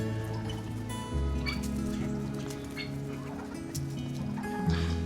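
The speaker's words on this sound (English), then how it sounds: "So those are my outside chickens," Backyard chickens kept outside the coop cluck and murmur while being fed bread, a steady close flock chatter with occasional louder calls rising over it.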